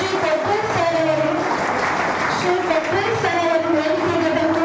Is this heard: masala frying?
no